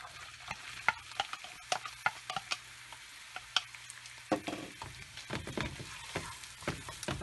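Onions sizzle quietly in hot oil in a pan, with scattered ticks and scrapes of stirring over a faint, steady frying hiss, close by and without talk.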